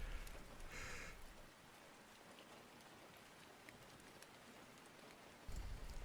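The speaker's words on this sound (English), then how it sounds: "that rain's coming down hard" Steady, dense thunderstorm rain pours down in a continuous hiss, with a brief brighter splash early on and a heavier rumble near the end.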